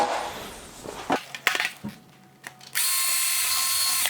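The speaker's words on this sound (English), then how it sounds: "Now I can go to the larger one that lets me drill the other side as well." A larger bit drills dash mount holes on a Gen2 Ford Raptor, heard as short, close ratcheting and whirring bursts, ending in a sustained high-pitched drill whine.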